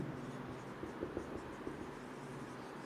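Chalk or a marker writes on a classroom board in soft, brief scratching strokes. The strokes sit faintly over a steady, noisy room background.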